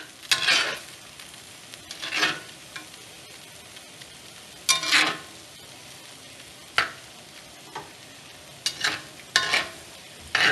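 Beef and broccoli cooking in a cast iron pan with cornstarch slurry, a faint low sizzle punctuated by several sharp bursts of hissing and stirring scrapes at uneven intervals, no voices.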